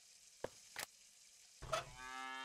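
A cow moos in a point-and-click adventure game with a bullfighting matador scene, the low bellow arriving near the end after a few short clicks and thumps, and sustaining loudly to the close with no talk.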